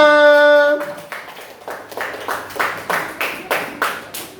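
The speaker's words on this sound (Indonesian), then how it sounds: "kasih tepuk tangan buat teman-teman kita semua" Students in a classroom clap their hands together in a short burst of loose, uneven claps. It starts after a brief tonal sound and then settles into a handful of separate, fairly loud claps.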